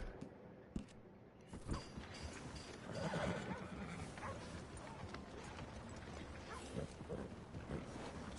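Horses in the video game Red Dead Redemption 2: a whinny and hoof clops around a stable, mixed with shuffling and ambient game noise at moderate loudness.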